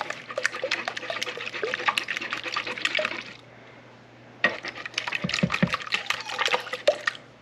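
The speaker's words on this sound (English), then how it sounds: "Trying to whisk left-handed so the camera can see is difficult." Blackberry curd mixture whisked briskly in a bowl, a busy run of quick clinking, wet taps and scrapes that stops for about a second, then resumes just as fast and close.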